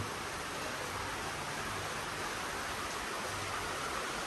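Steady, even hiss of rain falling in Sri Lanka, a dense constant wash of noise with no voices or breaks.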